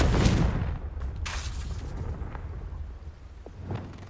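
A Confringo spell blast in Hogwarts Legacy: a deep boom opens the clip, followed by a rolling, rumbling decay dotted with a few sharper cracks and pops.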